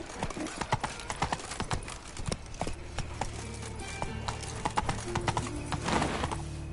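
A horse in a video game gallops with a fast, rhythmic clip-clop of hooves close up, and a voice speaks briefly over the steady hoofbeats.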